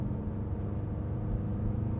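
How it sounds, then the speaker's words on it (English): Steady low engine and road rumble inside a 2024 VW Passat R Line accelerating from 90 kph, a constant even drone with no voices. "90 kph. Let's go to 100. Let's let it accelerate here."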